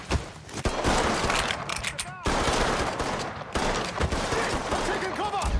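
Dense gunfire in the video game Mafia 3, rapid bursts of shots and automatic fire nearly continuous and loud, with voices shouting over the firefight.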